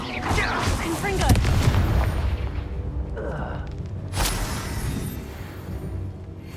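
Confringo fire spell blasts in Hogwarts Legacy combat: a couple of loud booming bursts with whooshing rushes over a continuous roar of battle noise.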